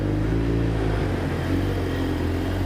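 New Lotus sports car powered by an AMG engine, a steady deep engine drone held at constant loudness with a slight pitch drop partway through, no voices.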